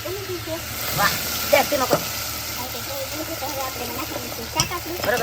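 Masala sizzling and frying in a pan for a palva fish recipe, a continuous crackling hiss with stirring scrapes, heard under a woman singing.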